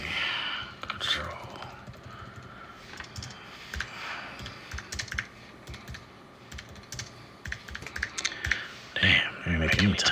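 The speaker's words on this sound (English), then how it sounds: "they make me type everything out with one finger" Irregular computer keyboard keystrokes tapped out one finger at a time, sparse and uneven clicks close by, with a faint voice and breaths now and then.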